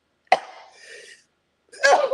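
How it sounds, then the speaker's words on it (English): A sharp sneeze bursts out, trailing into a breathy exhale, then after a short pause a second forceful burst follows, close and fairly loud. "Excuse me, I have to sneeze."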